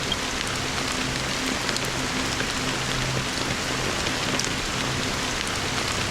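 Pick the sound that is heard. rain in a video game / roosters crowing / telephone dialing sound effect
rain in a video game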